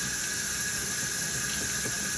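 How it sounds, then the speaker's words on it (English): Hot water gushes steadily from a tap to flush out a Tritech T380 spray gun after spraying paint, a loud continuous hissing rush with no pauses and no talking. "Blast out some hot water."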